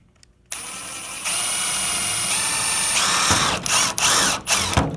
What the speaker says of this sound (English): And now we'll drill our large hole.